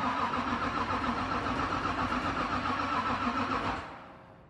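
A Nissan 350Z with a swapped LS V8 engine cranks and catches on its first start, then runs with a steady, busy rumble before cutting off and fading near the end.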